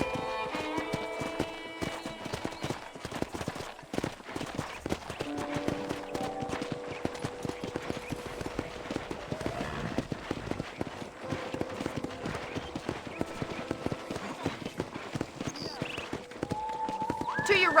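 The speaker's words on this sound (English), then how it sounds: "let's see if you can still ride a horse" Horse hooves clip-clop at a steady riding pace on a ranch in the Red Dead Redemption video game, crisp repeated hoofbeats running throughout over soft tonal game sounds.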